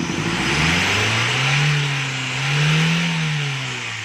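A CNG car engine being revved, loud and close, its tone rising and falling in two slow swells over a steady broadband mechanical roar, with no voices.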